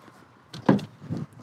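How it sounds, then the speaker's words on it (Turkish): A guillotine-style door on a boat is lifted open, giving a short sliding scrape and a muffled thump followed by a softer knock, moderately close in a quiet interior. "Orkinos kapısı da diyoruz biz bunlara ama bu kapıyı kaldırıyorsunuz"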